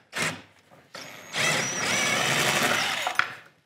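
Deep 14 mm socket on a power tool loosening the carbide nuts on a used Ski-Doo G4 snowmobile, a short whir, a pause, then a longer steady whirring burst ending in a sharp click.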